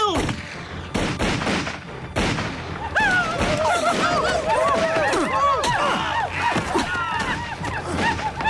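Cartoon musket fire in a frontier battle scene, a ragged volley of sharp shots cracking close and loud, overlapping in rapid bursts, with shouting voices mixed in under the gunfire.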